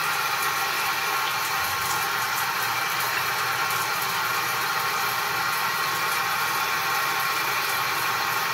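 A small demand water pump motor runs with a steady mid-pitched hum and hiss, constant and fairly close throughout, with no talk over it.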